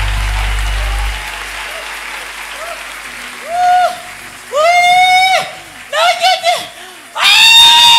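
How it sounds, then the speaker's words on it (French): An audience at a religious testimony gathering cheers with rising ululating cries in repeated loud bursts, ending with a surge of clapping. "Acclame fortement pour toi-même."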